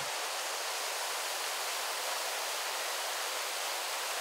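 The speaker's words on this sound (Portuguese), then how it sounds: "Ô Ferrari, em alguns trechos o Rio Petari tem um volume de água bem razoável, né?" Water of the Betari river in the São Paulo cave park region rushes in a constant, even hiss, a broad steady flow with no pauses or voices.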